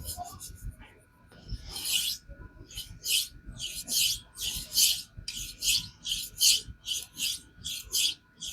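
A hard 52100 steel kitchen knife of about 62 HRC drawn across Kuromaku and Rockstar whetstones, giving rhythmic close abrasive rasping strokes, roughly one per second, after a quieter start.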